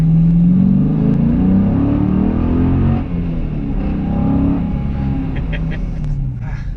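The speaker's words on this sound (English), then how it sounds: "The sound that this car makes is awesome." A 2016 Dodge Challenger Scat Pack engine revs and accelerates steadily in second gear, a deep continuous roar close by, with a voice speaking over part of it.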